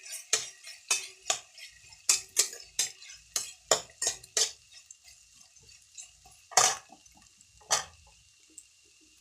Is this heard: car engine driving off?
no